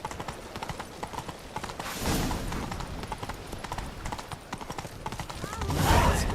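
A horse gallops under its rider in the Witcher 3 video game, with rapid rhythmic hoofbeats running steadily throughout, swelling louder near the end, while voices speak over them.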